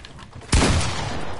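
A single loud, close pump shotgun blast in a Fortnite-style Creative match bursts out suddenly after a quiet start, followed by a lingering, slowly fading rumble.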